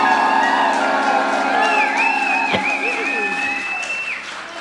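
A concert crowd claps and cheers steadily at a live show, with a dense wash of applause and whoops under a voice talking over it, fading slightly toward the end.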